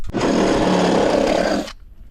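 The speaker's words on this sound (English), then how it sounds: "Oh, drilling action." A power drill whirs loudly at steady speed for under two seconds while installing a Bride seat in a G35 car, then spins down and stops.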